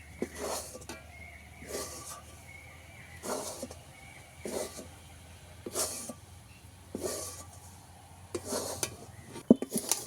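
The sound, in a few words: stirring flour into palm fruit pulp in a pan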